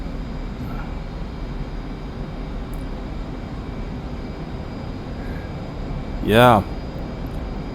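Aircraft engine during takeoff in a flight video game, a steady, even drone holding throughout, with a single short spoken word rising briefly above it near the end.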